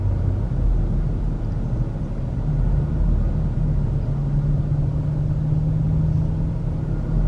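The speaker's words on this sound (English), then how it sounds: "Lots of cars though, as you can see." Steady car traffic rolls along Ocean Boulevard in Myrtle Beach, a continuous low engine rumble and tire hum with no distinct single pass, moderately loud and unbroken for several seconds.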